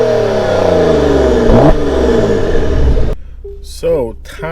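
A 2019 Porsche Macan S engine revs up close, rising sharply and falling away over a few seconds before a brief quieter moment with a voice.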